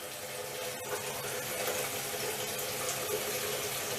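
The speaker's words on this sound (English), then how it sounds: "We're just filling up the container that holds the high-tech fluid that is needed to make this pump function" Water pours steadily into a container holding the working fluid for a 3D printed gear-type positive displacement pump, a continuous broadband rush with no talk.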